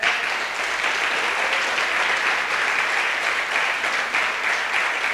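Steady audience applause fills a church service, dense and continuous at an even loudness throughout with no pauses.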